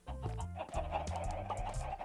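Minecraft chickens on Bedrock Edition cluck steadily over a thick, layered game-music backdrop, with short repeated clucks sounding close and fairly loud throughout.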